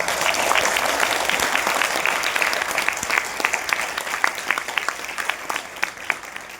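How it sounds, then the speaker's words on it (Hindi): Loud, sustained applause from an audience at a public talk, dense clapping that thins toward the end into scattered sharper claps. "तो अगर फटकार अच्छी लग रही तो जोर से ताली बजाओ तो एक बार।"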